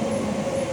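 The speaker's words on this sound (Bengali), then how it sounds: "নিচ থেকে ট্রেন যাচ্ছে" A train runs along the tracks below a bridge, heard from the bridge above as a steady, loud rumble with a sustained tonal hum throughout the short stretch.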